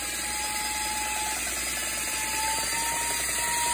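A power tool stands in for a kitchen mixer, whisking meringue before Thanksgiving. It gives a steady, loud, whirring mechanical rattle with a thin whine that holds unbroken throughout, and no one speaks over it.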